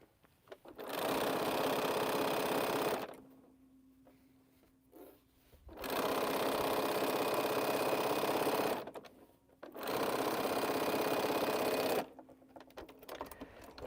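Sewing machine piecing quilt rows, running in three steady whirring bursts of a few seconds each, separated by short pauses with faint handling noise, close and clear with no talk.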